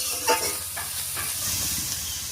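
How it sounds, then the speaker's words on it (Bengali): Banana tree stem fries in a wok, giving a soft steady sizzle with a few light stirring scrapes, close and fairly quiet. "কলা গাছটা দেখুন যখন কচলে রেখেছিলাম একেবারে কালো কালো মতো ছিল, আর কড়াইয়ে দেওয়ার সঙ্গে সঙ্গে কিন্তু অনেকটাই পরিষ্কার হয়ে গেছে"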